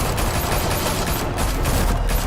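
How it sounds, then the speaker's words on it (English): Dense, rapid gunfire rattles continuously in Batman: The Telltale Series, a loud, sustained volley of overlapping shots with no pause across the whole stretch. "Open fire!"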